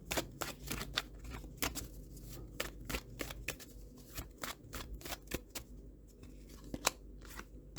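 Tarot cards shuffled and pulled from a deck during a pick-a-card reading, a quick series of soft, crisp flicks and snaps, close and fairly quiet, with no talking.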